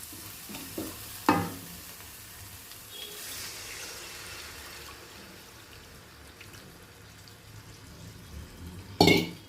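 Tamarind water pours into hot frying spices in a pan with a sharp sizzle, then quiet frying and stirring before another brief burst of sizzling near the end.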